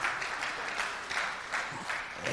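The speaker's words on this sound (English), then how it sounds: "I think he deserves more louder applause" Sustained applause from a seated audience at a national electoral reforms summit, a dense, even wash of many hands clapping, moderately distant and steady throughout.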